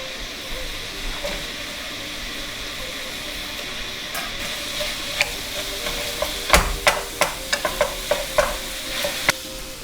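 Pork and chopped onions sizzle in a pan with a soft, steady hiss, then a run of sharp spoon clanks and scrapes on the pan as they are stirred.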